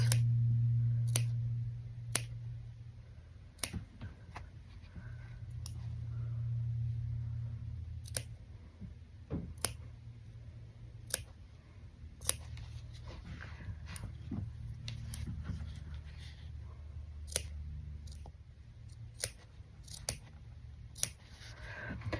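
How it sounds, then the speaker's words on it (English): Small scissors snip a fabric seam allowance around curves of a stuffed mermaid plush, giving a run of sharp, close, irregular clicks over a soft low hum. "Just give some of these little snips to help it."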